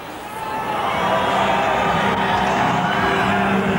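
A large boxing arena crowd of Texan fans roars in a steady, dense wall of cheering and chatter that swells after the first half second and stays loud throughout.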